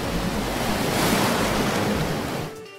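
Waves of the wild Southern Ocean crash and roll along Australia's southeast coast by the Great Ocean Road, a steady, loud surf roar mixed with wind rumble that eases off near the end.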